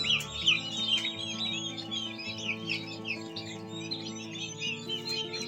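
A large flock of one-month-old turkey chicks at a farm chirps and peeps continuously in a dense, overlapping chorus, with a steady low machine hum underneath.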